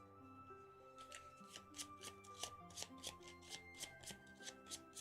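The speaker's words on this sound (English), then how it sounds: "And then we have to shuffle them, don't we?" A deck of game cards is riffled and shuffled in a run of quick, crisp ruffling bursts close by, repeated in a steady rhythm over quiet background music.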